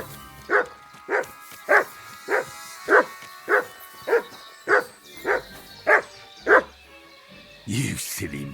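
A dog in the medieval video game Kingdom Come Deliverance 2 barks about ten times in a steady, evenly spaced rhythm, clear and fairly near, followed by a brief rustle at the end.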